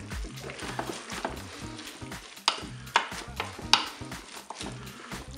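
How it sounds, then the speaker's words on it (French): Mustard is stirred into salmon spaghetti in a Cookeo pot, a spoon scraping and knocking against the bowl several times over a soft sizzle. "On va commencer par la moutarde. Je mélange."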